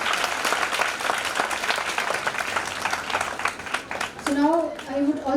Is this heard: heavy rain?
no